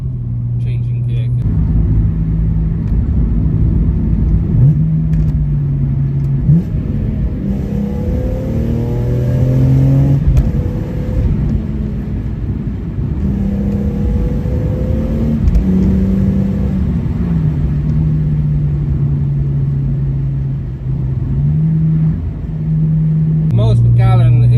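A BMW E46 M3 engine revs up and down through gear changes, with short automatic throttle blips on downshifts, the rising and falling engine tones heard from inside the car with some talk over it.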